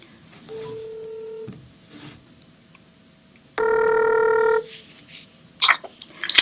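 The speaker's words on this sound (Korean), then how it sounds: "그래서 제가 전화 연결을 하겠습니다." During a Korean church call-in broadcast, an outgoing telephone call sends two separate electronic tones, each about a second long with a pause between. A short clatter follows them.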